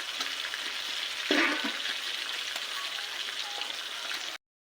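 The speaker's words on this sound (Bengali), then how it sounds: "পেঁয়াজটা ভেজে নেওয়া হবে" Onion with a chilli, ginger, garlic and cumin paste fries in a pan with a loud, steady sizzle, broken by a brief scrape of stirring partway through.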